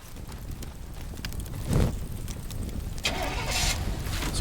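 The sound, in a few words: truck engine in the video game Teardown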